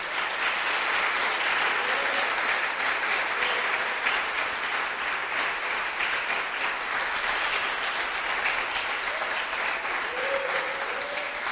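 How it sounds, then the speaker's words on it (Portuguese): A church congregation claps long and steadily during a sermon, a dense, continuous wash of applause lasting over ten seconds, with faint voices or cheers surfacing briefly beneath the clapping. "Dê uma forte salva de palmas para Jesus."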